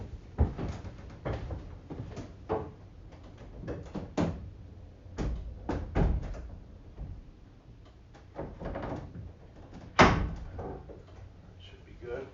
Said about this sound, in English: The doors on my area were about to fly open.